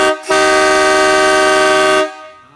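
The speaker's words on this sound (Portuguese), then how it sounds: "Toca aí, buzineiro." A dual marine air horn mounted on a Dodge Ram pickup blasts one loud, steady, brassy tone for nearly two seconds, close by, then cuts off and fades with a short echo.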